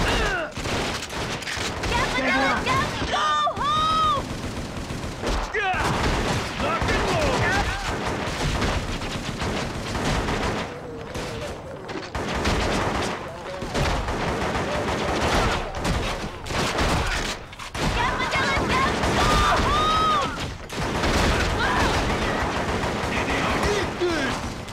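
Short bursts of AK rifle fire in the PS2 video game Shellshock Nam '67, repeated throughout amid the wider clatter of a battle, loud and close, with brief voices in between.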